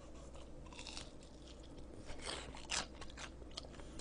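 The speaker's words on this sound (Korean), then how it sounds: "일단 이거 튀김은 오징어 튀김 하나 먹어보도록 하겠습니다." Crisp crunching bites and chewing of fried squid tempura dipped in soy sauce, several crackly bursts close to the mic, quiet and with no talking.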